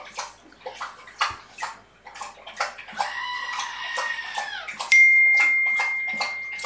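A voice imitates someone slurping coffee, making wet sucking and slurping noises, then a drawn-out tonal slurp and a steady whistling sound. The sounds are close and fairly loud.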